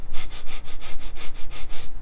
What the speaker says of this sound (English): Another breath you could do, again, as I mentioned earlier, which is bellows. And bellows is diaphragmic, but it's rapid. So it's rapid sniffs.